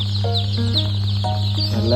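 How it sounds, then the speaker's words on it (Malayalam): Rhode Island Red hens, a brown egg-laying breed, cluck in a series of short, close calls over a steady low hum. "250 കൂടുതൽ മുട്ട വർഷത്തിലിടുന്ന റോഡ് ഐലൻഡ് റെഡ്."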